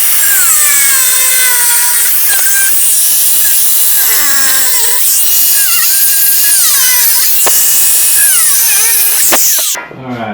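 A power tool cuts roughly 3 1/4 inch holes out of the metal body of an A70 mk3 Toyota Supra, a loud, close, continuous high whine with pitch dipping and rising as it bites, stopping abruptly at the end.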